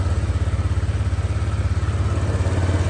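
A motorcycle engine idling after being started, a steady low throbbing pulse with a mechanical clatter on top, close and even throughout.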